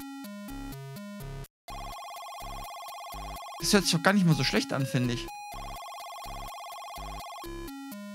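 Intro music of the Commodore VC-20 game Ingos Treasure Hunt: a loud, stepping electronic chiptune of bright buzzy tones that pulse like a ringing telephone, pausing while someone talks briefly before the tune resumes.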